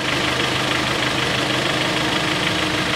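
A KIA Sportage 2.0 engine idles steadily during an automatic transmission oil change, a constant close-up mechanical hum with slight knocking texture and no breaks.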